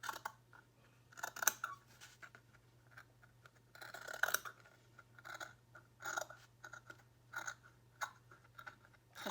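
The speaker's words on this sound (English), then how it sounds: "it's so hard to use scissors with a finger like this" Scissors trimming the edge of a book cover snip in short, irregular bursts of crisp cutting clicks, several quick cuts spaced a few seconds apart, close up over a faint steady hum.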